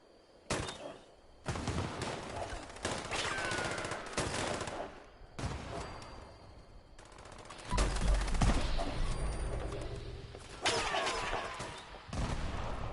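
Gunfire in a treasure-hunters event of a shooter game, dense bursts of automatic fire and single heavy shots with explosive booms, loud and close, coming in repeated volleys separated by short gaps.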